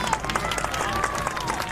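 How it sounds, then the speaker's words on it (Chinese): A crowd bursts into applause on a luxury cruise ship in a Chinese suspense drama, a dense, even patter of clapping with a faint musical tone running beneath it. "来，给他掌声"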